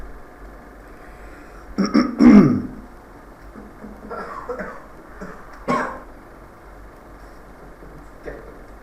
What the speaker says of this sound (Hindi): तुमने लगाई मुझे खांसी।